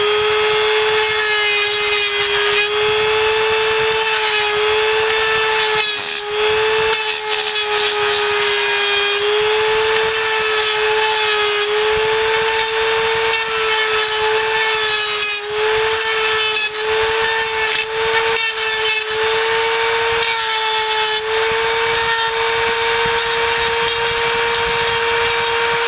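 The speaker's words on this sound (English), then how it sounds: "Take the Dremel." A Dremel rotary tool sands the plastic of a Nerf Maverick blaster, a loud, continuous high-pitched whine with a steady motor tone and gritty abrasive scraping that shifts slightly as the bit presses against the plastic, heard close and alone.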